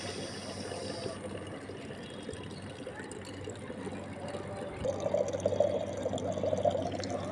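A rooftop water tap runs drinking water into a bottle, giving a soft, steady splashing flow. The flow grows louder and fuller toward the end as the vessel fills.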